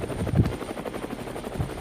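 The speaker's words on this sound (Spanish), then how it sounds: "Es un helicóptero y viene hacia acá." Helicopter rotor sound effect in a zombie survival audio drama, a steady thudding chop that holds at a fairly constant level, with no voices over it.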